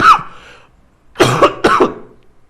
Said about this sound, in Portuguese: Estou tossindo aqui